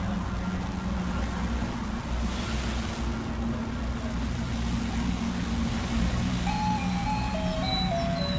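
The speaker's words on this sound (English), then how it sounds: "This is the sound of a garbage truck in Taipei" A garbage truck in Taipei plays its tinkling melody as it moves through the street. The tune sits over a steady low rumble of engine and traffic, with no talking.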